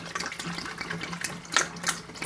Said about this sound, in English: you just 30 seconds of contact time, and I'll just pour it to the next